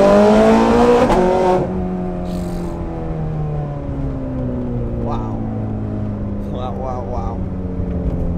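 A Ferrari 430 Scuderia engine revs sharply and then drops away into a falling exhaust tone, loud and close at first and fading to a lower drone, with a few brief voices over it.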